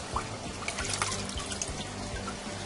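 Running water trickles and splashes over a freshly caught Murray cod being rinsed, a steady close, fairly quiet stream with small irregular splashes throughout.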